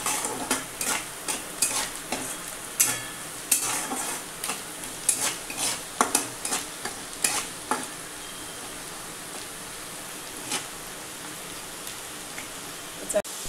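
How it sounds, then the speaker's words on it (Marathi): Chopped onion fries with a steady sizzle in a pan as a spoon or spatula scrapes and stirs it in repeated sharp clatters, close and fairly loud. "आता बघा हा कांदा चांगला भाजला आहे आपला."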